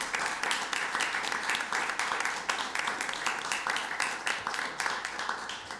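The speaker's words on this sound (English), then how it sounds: "another round of applause for all of our PAIMS winners here" Attendees at a State Board of Education meeting clap for award winners, a sustained patter of many hands at moderate loudness with a busy, uneven rhythm throughout.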